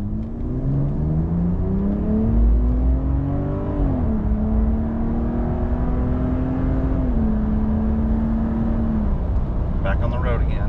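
A 2025 Ram 1500 RHO pickup truck pulling away from a stop, engine rising smoothly in pitch through a gearshift and holding a steady drone inside the cab, with a person talking throughout over the hum.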